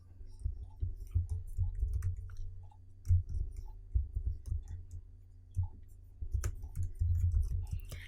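Soft, irregular keystrokes tap out a file name on a computer keyboard in short clusters of clicks, close to the microphone, alongside a low speaking voice.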